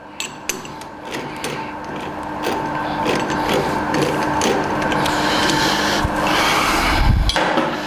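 A lathe runs steadily while turning a bronze bushing, giving a continuous mechanical hum with scraping and rubbing cutting noise, some sharper knocks near the start and a low rumble swelling toward the end, no talk.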